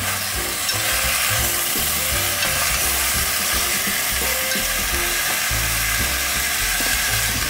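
Food being stirred in a hot pan with a little ghee, along with sweet peppers and onion for tortilla soup, giving a steady loud sizzle and frying hiss with repeated scraping strokes of the spoon throughout.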